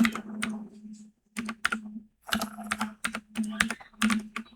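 Close, crisp clicks of a computer keyboard as a line of text is typed, arriving in clustered bursts with brief gaps, over a steady low electrical hum.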